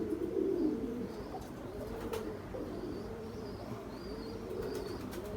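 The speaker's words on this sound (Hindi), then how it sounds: "ये बड़े शानदार कबूतर हैं।" Pigeons coo softly and repeatedly in a quiet space, their low throaty calls rising and falling with a few faint chirps and light rustling in the background.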